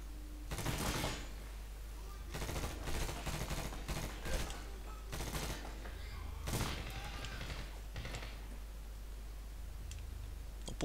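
Gunfire in the 2010 Medal of Honor video game comes in several bursts of rapid shots, some sharp and close and others quieter, over a low steady hum.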